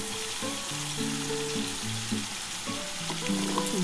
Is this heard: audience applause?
no